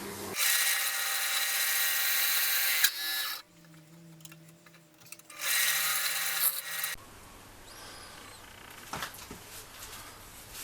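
Carbide cutter shaving wood while hollowing a vase on a lathe, making a rough, scraping hiss that runs in loud sustained stretches separated by quieter pauses with lower machine hum.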